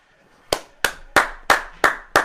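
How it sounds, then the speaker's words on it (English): Six sharp, loud hand claps come close by at an even, steady pace, each a crisp smack with a brief tail, following a moment of near silence. "That's a real clap."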